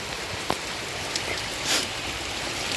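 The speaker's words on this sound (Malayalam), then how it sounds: "ഇവിടെ മഴ പെയ്യുന്നുണ്ട്. മഴ ഇന്ന് നല്ല മഴയുണ്ട്." Steady rain falls around a house in a broad, even hiss with a few louder drops and splashes standing out, constant and moderately close, with no voices.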